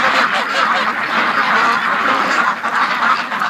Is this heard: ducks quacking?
yes